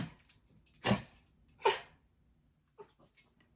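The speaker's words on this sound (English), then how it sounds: "You're going to hear some growling." A dog growls and whimpers in a few short, fairly close bursts separated by quiet gaps, with faint soft vocal noises near the end.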